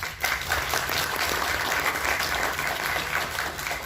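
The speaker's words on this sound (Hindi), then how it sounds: "उसके लिए इनको बहुत ज़्यादा तालियां चलना चाहिए" Sustained, even applause from an audience honouring retiring government officers at their farewell ceremony continues for several seconds without pause.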